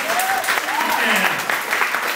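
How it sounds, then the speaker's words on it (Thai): Loud, dense applause from a seminar audience, bursts of clapping rolling continuously with a voice faintly carrying over it. "ขอเสียงปรบมือให้เขา"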